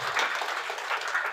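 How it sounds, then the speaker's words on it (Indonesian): An audience at a Cooperative Day event gives a brief burst of dense, steady applause, moderately loud and without talk over it. "Tepuk tangan luar biasa."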